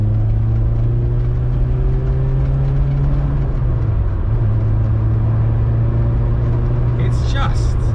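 A Volkswagen Golf GTI Mk1 heard from inside while driving, its engine a loud, steady drone with a low hum that dips briefly as the gear changes, under continuous cabin road noise.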